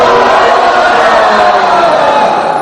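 A roomful of people yells the chant word "Garanga" together with raised hands, producing a dense, sustained roar of many voices that stays loud from start to finish.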